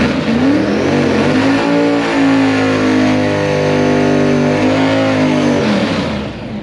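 A 1955 stick shift drag car with a 528-cubic-inch Hemi and an H-pattern shifter bellows loudly as it launches, engine pitch climbing and dropping through gear changes in a sustained, close roar.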